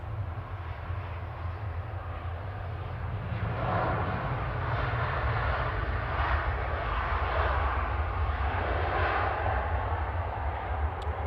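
A Boeing 737-800 jet airliner at Manchester Airport gives a steady, broad roar of jet engines that swells slightly midway, heard from a distance and continuous throughout.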